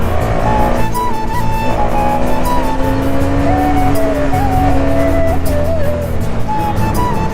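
A car moves through city traffic, its engine note rising and falling steadily with continuous road and tire noise close by, plus faint other vehicles around it for the whole stretch.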